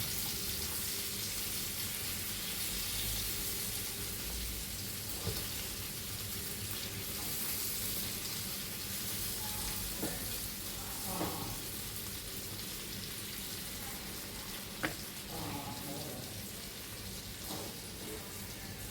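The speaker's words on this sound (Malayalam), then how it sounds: "കരിയാതെ ഫ്രൈ ആയി വന്നിട്ട് കേട്ടോ" River prawns frying in a pan give a steady, close sizzling hiss that runs throughout, with a few sharper pops and crackles breaking through near the middle and end; no one speaks.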